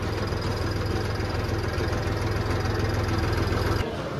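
Tractor engine running close by, a loud steady idling chug with even low pulsing that drops off abruptly near the end.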